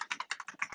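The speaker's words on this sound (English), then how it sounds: "all I have to do is start typing their name and entering their email address in here" Rapid typing on a computer keyboard, a quick run of about nine close, crisp key clicks in uneven rhythm, with no talking.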